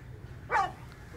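A puppy gives a single short, high yappy bark over a quiet low background hum.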